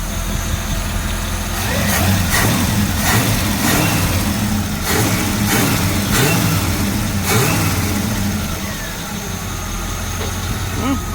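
A 1965 Chevrolet C-10 pickup with a Powerglide transmission idles smoothly and is given a few short revs, the engine rumbling steadily up close while someone talks over it.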